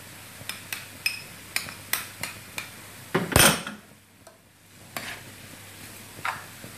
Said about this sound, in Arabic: نخلط الكل ونتركه ينضج